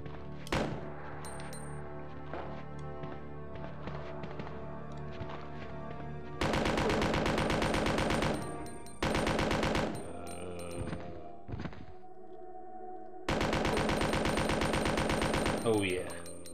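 Machine gun fire in the video game Resident Evil 2: long, loud sustained bursts that stop and restart, mixed with other game sounds.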